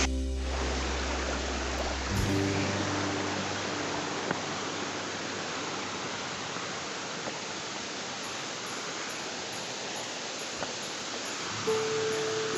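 Gajpalla waterfall in Gariyaband pours in a steady, dense roar of falling water that fills the scene evenly from start to finish, with no voices over it.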